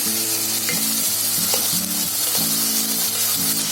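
Tomatoes fry in hot oil in a pan with a loud, dense, continuous sizzle and no talk.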